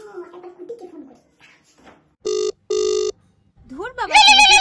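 On an outgoing phone call, two evenly spaced electronic ringback tones sound loud and clear between stretches of talking. Another voice rises right after the second ring.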